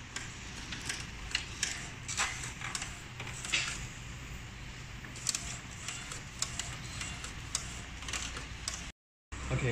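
An Epson L1800 DTF printer mechanism runs with irregular ticking and clicking over a steady low hum, close by, before a brief dropout near the end.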